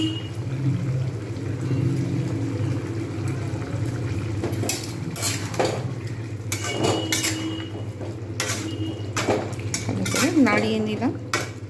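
Paneer and cauliflower are stirred with a little ghee in a pan, giving repeated metal clanks and scrapes of a spoon against the pan over a low steady background hum.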